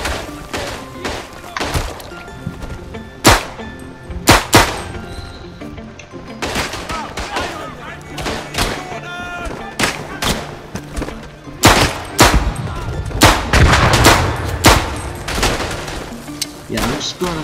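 Trench combat in the World War I video game Verdun: loud, dense gunfire with sharp single shots, rapid bursts and heavy thuds, continuous and close, under occasional player talk.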